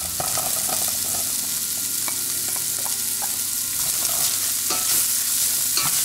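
Chopped celery sizzles and crackles in a very hot pan, a steady loud frying hiss with scattered pops and spatters and stirring clatter throughout, no voices.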